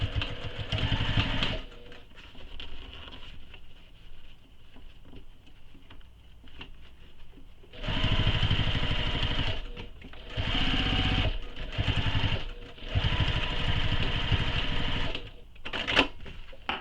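A sewing machine back stitches over previous stitches on a commuter tote bag, running in several loud, steady bursts of rapid mechanical patter separated by short pauses and quieter handling.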